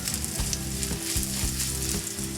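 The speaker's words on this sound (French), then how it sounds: "on va y ajouter notre mélange ail et gingembre. Voilà, hop. Donc, on fait dorer pour la garniture aromatique." Garlic and ginger sizzle steadily in a hot pan as they brown for a noodle dish, a close, continuous frying hiss with occasional stirring scrapes and no voices.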